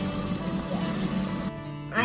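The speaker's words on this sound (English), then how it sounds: "We're running cold water over the mold to break the popsicle loose." Cold tap water runs steadily over a popsicle mold in a kitchen sink, a close, continuous splashing flow that cuts off near the end before a short final gush.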